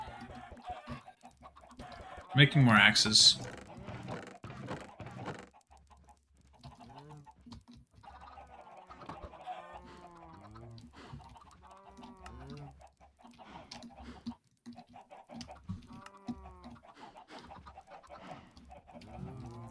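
Chickens cluck in a Minecraft farm, with a loud, dense burst of clucking near the start followed by scattered game sounds and occasional softer clucks beneath a voice speaking.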